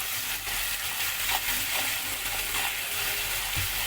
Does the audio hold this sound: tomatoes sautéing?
yes